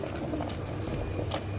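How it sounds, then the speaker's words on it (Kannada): Mutton keema sambar simmering in a pot, a steady close bubbling and gurgling that runs evenly throughout with no voices. "ಸಾಂಬಾರು ಕುದೀತಿದೆ."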